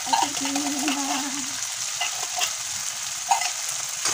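Argentina-brand ground pork with garlic and onion fries in a pan, giving a constant close sizzle with faint stirring scrapes, while a brief tonal hum drifts over it in the first seconds.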